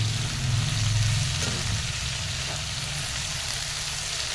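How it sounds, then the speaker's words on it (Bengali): Shrimp frying in a pan, a close, continuous sizzle with slight stirring, heard alone with no talking. "চিংড়ি মাছটা হালকা ভাজা হয়ে গেছে"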